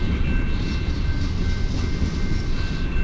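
A long CN westbound mixed freight led by locomotives 2598 and 2403 rolls past in Port Huron, Michigan, its coal cars producing a close, loud, continuous rumble with steady wheel clatter.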